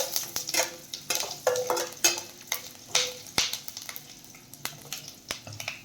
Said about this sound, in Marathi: मिरची, लसूण आणि आलं हे छान परतून घ्यायचं आहे।